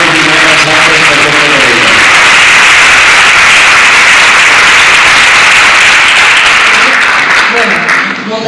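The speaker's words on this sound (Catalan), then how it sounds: "Un aplaudiment per la Carme." A hall audience applauds a speaker at a Catalan public talk on tax resistance, dense steady clapping filling the space for several seconds and tapering near the end.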